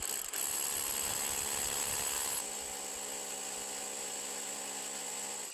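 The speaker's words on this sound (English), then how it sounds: "So I'm going to drill kind of perpendicular with the hanging wall here, put in 4 or 5" A power drill bores into rock in a gold prospecting dig to set feathers and wedges, a loud high whine that runs steadily, then drops in pitch and eases before cutting off.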